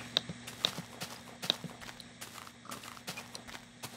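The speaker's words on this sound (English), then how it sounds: "I can hear something walking around." Footsteps of a mob walking in the block-building game Minecraft, a series of soft, irregular thumping steps at moderate distance, quiet and unaccompanied by speech.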